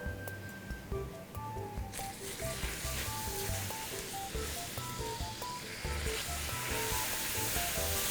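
Milk and butter are poured into caramelizing sugar, and the soft background sizzle jumps to a loud, bubbling hiss partway through and then keeps frying steadily, with faint tones in the background.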